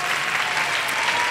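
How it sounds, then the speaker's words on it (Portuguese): Steady, dense audience applause fills a television game-show studio on the Brazilian program Roda a Roda Jequiti as a contestant is welcomed to the stage, continuous and fairly loud throughout. "Palmas para a Jennifer."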